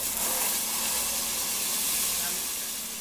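Butter melting in a hot pan for a mackerel fish stew gives a loud, steady, broad sizzling hiss that holds evenly for a few seconds close by.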